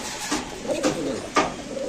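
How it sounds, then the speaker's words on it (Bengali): A grizzle racer pigeon coos close by in a series of soft, low, rolling calls, with faint background rustling and no talking. "এটা আফসান গ্রিজেল রেসার কবুতর"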